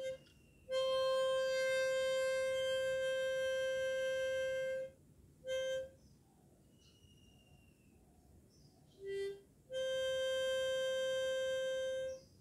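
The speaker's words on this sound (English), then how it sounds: "only the ninth hole I'll be blowing" Harmonica blowing a single note on the ninth hole: steady, clear tones held for about four seconds, then a short burst, and a final sustained note after a pause, close and fairly loud with no talking.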